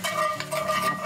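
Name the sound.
garlic browning in olive oil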